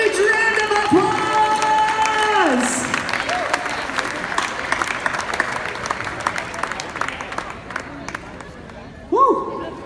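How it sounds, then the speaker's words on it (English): Crowd applause at a charity auction gala, loud clapping with some cheering that rises after the auctioneer speaks and continues steadily, fading into chatter before a voice returns at the end. "Can we give all of our bidders in our live auction a huge round of applause?"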